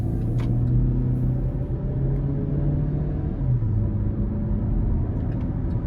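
Inside a 2024 Chevrolet Equinox RS, its 1.5-liter turbocharged four-cylinder engine drones steadily while driving. A low, constant rumble of engine and road noise shifts pitch slightly partway through.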